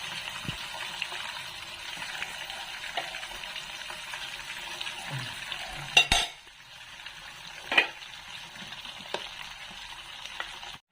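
Milkfish (bangus) frying in a covered pan, a steady soft sizzle with a few sharp clanks of the lid and utensils around the middle.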